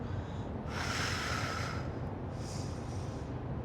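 Breathing during a home morning workout: a long hissing exhale followed by a shorter second breath, close and fairly quiet over a low background hum.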